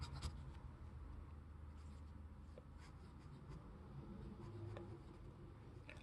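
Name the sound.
fountain pen with scratchy medium nib writing on paper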